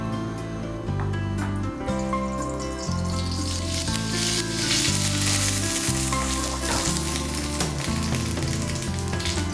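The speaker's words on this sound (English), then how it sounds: "I put my oil inside and begin sauteing my mushrooms" Sliced mushrooms sauteing in hot oil in a pan over a high flame give a steady, even sizzle throughout, running beneath loud background music.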